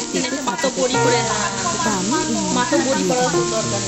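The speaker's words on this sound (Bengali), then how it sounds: "তার জন্য আমি এখন আলুটাকে হালকা করে একটু ভাজা করে নেব" Potatoes frying lightly in a pan give a steady, close sizzle that runs under a melodic voice or background music.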